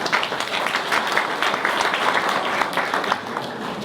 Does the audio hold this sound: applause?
yes